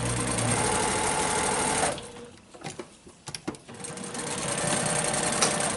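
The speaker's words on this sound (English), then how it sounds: "we're going to sew a 1/4 inch seam, and we're going to start about 2 inches in from the edge" A sewing machine runs close by, stitching a quarter-inch seam on a fabric face mask, then pauses briefly with a few clicks and thuds before the steady whirring drone picks up again.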